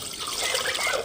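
A brief, steady rush of water pours into a cooking pot on the stove, about half a tumbler's worth, close and continuous for about a second.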